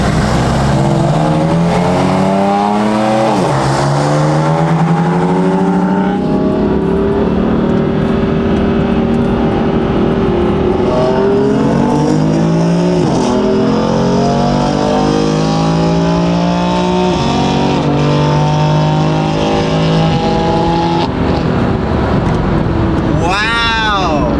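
Stage 2 tuned and stock BMW M4 cars accelerating hard in a race on a cold day, engines rising through the gears with loud sustained revving and shifting pitch sweeps, with talk over the top.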